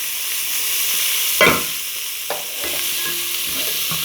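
Onion and tomato sautéing in hot oil with garlic, a steady broad sizzle throughout, broken by a sharp utensil scrape and clatter near the middle and a few lighter knocks later; close and fairly loud, no talk.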